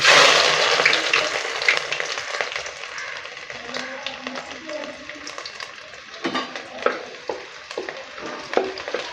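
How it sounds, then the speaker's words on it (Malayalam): Chopped ginger and garlic frying in hot oil in a pan for a Kerala-style cauliflower stew, giving a steady, close sizzle that is loud at first and then settles, with scattered clinks and stirring scrapes throughout. "നമുക്ക് ഇഞ്ചിയും വെളുത്തുള്ളിയും കൂടെ അരിഞ്ഞ് വെച്ചിട്ടുണ്ട്, അതിട്ട് കൊടുക്കാം."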